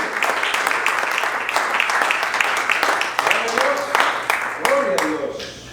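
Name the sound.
congregation applauding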